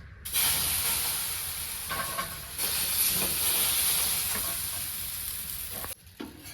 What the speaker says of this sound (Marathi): जे मिक्स केलेलं पीठ आहे ते आता आपल्याला ह्या तव्यावर टाकून घ्यायचं आहे